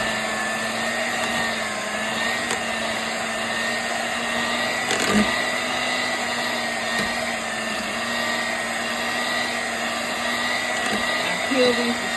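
Electric hand mixer whipping peeled boiled potatoes with milk into creamy mashed potatoes, a steady close motor whine running continuously throughout with slight bumps as the beaters knock the bowl.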